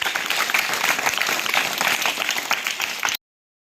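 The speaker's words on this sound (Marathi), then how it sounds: "छान टाळ्या वाजवा मुलांना" Children and adults at a school Teachers' Day event clap together, a dense, lively round of applause from a nearby crowd that continues steadily for about three seconds and then stops abruptly.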